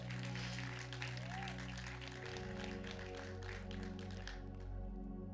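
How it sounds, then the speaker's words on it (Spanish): A church congregation applauding during a Spanish-language sermon, scattered clapping over sustained organ or keyboard chords, the clapping fading out near the end as the music carries on. "Den un aplauso al Rey de Reyes"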